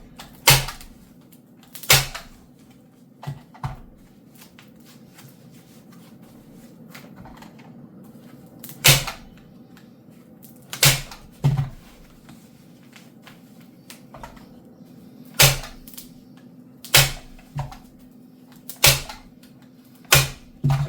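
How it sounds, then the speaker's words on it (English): Staple gun driving staples into fabric on an RV camper window valance, a series of sharp, separate snaps spaced irregularly a second or two apart, with quiet handling between them. "but I'll just staple it to the end."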